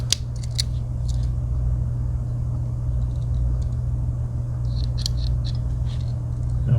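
Several small metallic clicks and snips from the scissors on a Victorinox Huntsman pocket knife, close and sharp, over a steady low rumble in the background.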